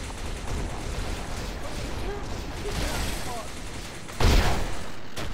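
Shotgun fire in a video game firefight: a single loud, sharp blast stands out near the end over a steady, noisy battle backdrop.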